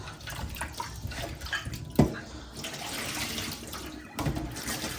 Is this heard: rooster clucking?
no